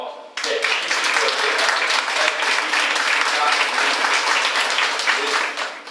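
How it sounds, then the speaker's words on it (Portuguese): Audience at a gathering on the history of the Workers' Party breaks into sustained applause that starts abruptly and holds loud and dense before tapering at the end, with some voices mixed in. "uma salva de palmas"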